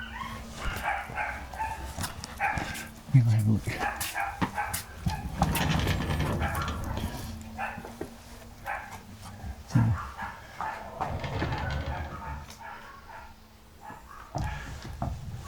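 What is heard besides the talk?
dog barking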